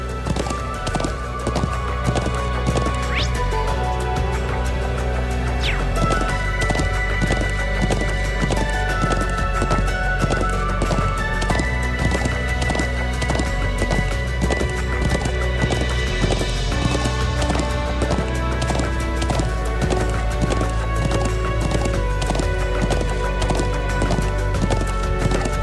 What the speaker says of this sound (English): I'm glad I still remember how to ride a horse.